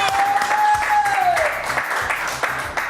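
A studio audience applauds a newly unveiled television set, loud sustained clapping from many hands with a gliding synthesized tone sweeping over the first half.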